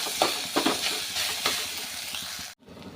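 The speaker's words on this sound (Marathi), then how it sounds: "मस्तपैकी वांगी ही शिजली गेली आहेत ते आपण मिक्स करून घेऊया" Cooked eggplant being mixed in a hot pan, a steady sizzling hiss broken by a few soft scraping stirs, close and moderately quiet, cutting off abruptly near the end.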